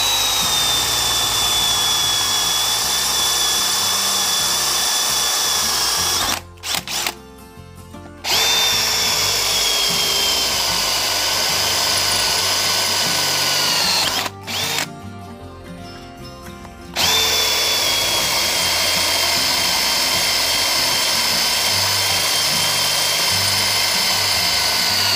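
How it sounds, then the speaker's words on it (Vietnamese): Stanley FatMax SBD715D2K cordless drill boring into a thick steel bar, a loud sustained whine that runs steadily, cuts out twice for a second or two, then resumes. "Mình sẽ khoan trên cái miếng la dày này luôn ha."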